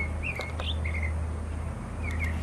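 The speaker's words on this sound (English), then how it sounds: "This is the state bird here in Texas, called the mockingbird. It's a beautiful singer, as you can hear him sing." A mockingbird sings in Texas, giving several clear short whistled and slurred notes in separate bursts over a steady low outdoor hum.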